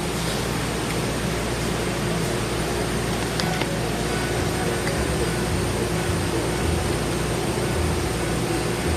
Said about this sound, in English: it may have noise in the background. That's the air conditioner running.